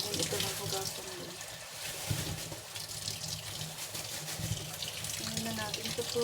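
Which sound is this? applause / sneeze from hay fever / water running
water running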